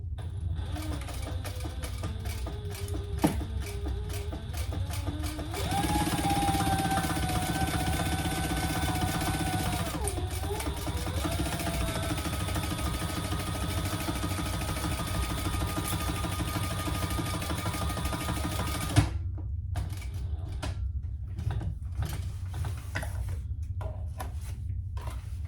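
A sewing machine runs steadily while top stitching two rows along fabric on a divided basket, its motor hum continuous for about twenty seconds before stopping and giving way to softer handling noises.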